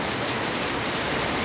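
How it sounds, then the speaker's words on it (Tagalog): Heavy typhoon rain pours down at a home residence, a loud, unbroken hiss of dense drops hitting surfaces that fills the entire short stretch, with no voices. "Napakalakas po ng pag-ulan sa mga oras na ito."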